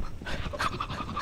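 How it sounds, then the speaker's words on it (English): Quick, heavy panting breaths, stressed and rhythmic, close up and alone for about a second. "Your like stressed breathing noise is like my favorite"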